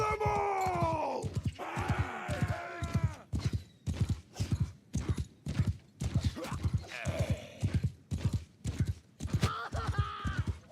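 Horse hooves clip-clop in a steady, loud, rapid rhythm during a medieval combat game set in the Old Realms mod, with a whinny or groan near the start and mid-way, no talk over them.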